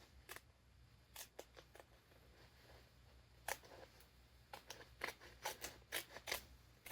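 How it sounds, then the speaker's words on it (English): Scissors snipping through a transfer sheet, a scattering of soft, quick cuts that bunch into a faster run near the end, quiet and close against a faint background hum. "I'm actually going to take my scissors and cut this one"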